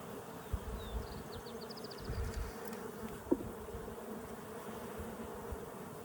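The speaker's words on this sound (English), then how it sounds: "Got lots of bees, so that's nice." Steady buzzing of many honey bees close by at a hive, a dense continuous hum with faint higher chirps drifting in.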